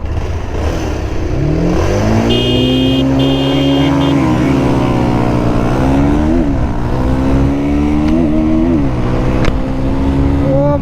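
Bajaj Pulsar 220F motorcycles, a 2026 model against a ten-year-old BS3 version, accelerating hard in a drag race: a loud, continuous engine roar climbing through the gears with rising and falling pitch, close by and without talk.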